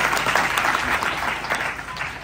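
Audience applause at a send-off and felicitation ceremony for a Varkari dindi pilgrimage group leaving a village for Pandharpur, steady dense clapping filling the whole stretch at moderate loudness.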